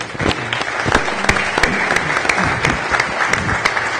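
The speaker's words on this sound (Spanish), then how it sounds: "Aplausos." An audience at an agricultural business talk breaks into close, loud applause, a dense patter of many hands with sharper individual claps standing out, continuous for the whole stretch.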